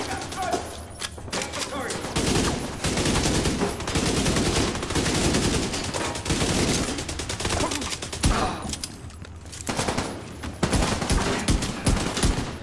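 Rapid bursts of pistol fire in The Division 2, loud sharp cracks in quick clusters separated by short pauses, continuing throughout.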